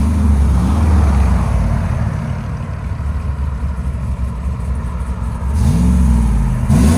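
A cammed GMC Sierra with the 6.2L V8, headers and exhaust valves shut, rumbles steadily at a deep, muffled idle with light blips of the throttle. Two sharper revs swell near the end, and no one speaks.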